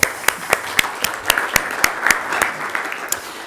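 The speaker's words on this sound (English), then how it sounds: "So we will actually just start with an applause for all of you." Audience applause at an indoor info day, a loud burst of sharp claps in a quick uneven rhythm that thins out over a few seconds.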